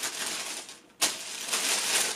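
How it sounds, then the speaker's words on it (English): Paper tears sharply while a pair of Nike Air Force 1 Love Letter Valentine's Day sneakers is unboxed, a sudden loud rip after a brief quiet, followed by continued crinkling and rustling of the wrapping. "No, the paper just ripped."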